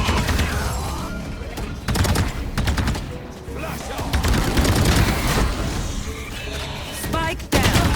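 Gunfire rattles through a gunfight in the video game Valorant, loud overlapping bursts and sharp shots piling up with thuds and game effects, nearly continuous across the clip.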